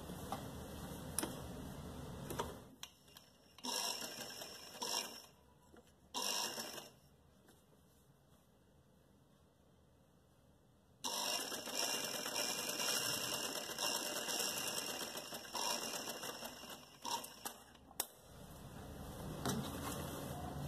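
A sewing machine runs in steady mechanical bursts, whirring and ticking, then stops for a few seconds before stitching again at length.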